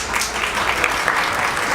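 A crowd at a high school boys' game between Alton and South Side claps in a dense, sustained round of applause, loud and fairly near, with scattered cheers and voices mixed in.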